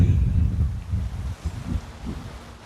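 Low, gusty rumbling wind buffets a nearby handheld microphone in uneven surges, with no other clear sounds.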